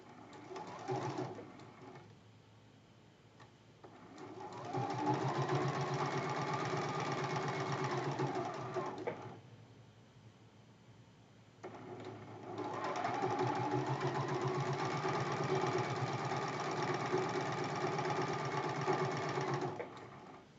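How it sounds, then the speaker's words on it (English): A sewing machine stitches pieces of a Christmas tree quilt block in two long, even runs with a short pause between them, close and steady with no talking. "I try not to sew over those pins, but sometimes I do anyway"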